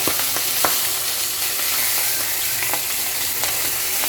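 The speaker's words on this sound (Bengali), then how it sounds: "তো বড় মাছের মাথা, এগুলো ভাজাটা খুব কষ্ট।" Large fish heads fry in hot oil, giving a steady loud sizzle with scattered sharp pops and crackles and occasional stirring, with no one talking.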